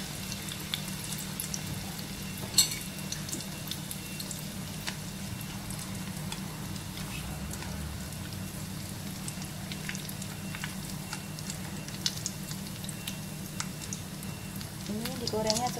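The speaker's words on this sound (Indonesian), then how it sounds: "Dan kita akan goreng." Breaded sausage and cheese bread rolls fry in hot oil with a steady, even crackling sizzle throughout, punctuated by occasional pops, while someone speaks softly nearby.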